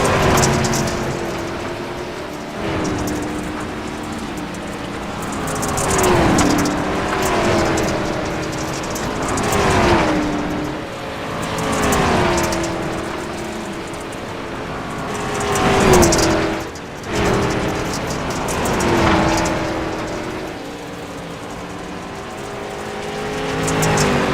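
SRX race cars roar past in repeated waves, engines rising and falling with Doppler sweeps as they pass in close succession over a constant loud track din.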